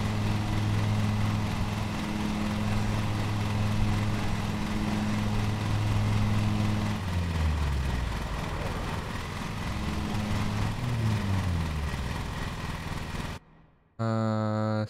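Ride-on lawn mower engine in the video game Lawn Mowing Simulator, a steady droning hum with shifting pitch partway through, briefly cutting out near the end before resuming.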